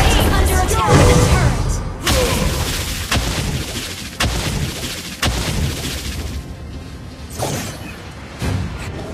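Game battle sound from a mobile MOBA match with a turret under attack: repeated heavy booming hits and blasts in a dense, loud mix with an announcer-style voice and effects layered throughout.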